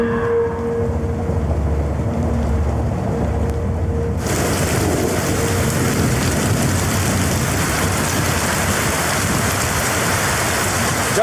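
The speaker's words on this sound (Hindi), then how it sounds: "बारिश बहुत तेज है," Heavy rain pours down in a steady broadband hiss that suddenly grows denser and louder partway through, continuing without pause.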